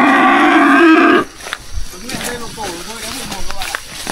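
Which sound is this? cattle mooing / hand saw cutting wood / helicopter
cattle mooing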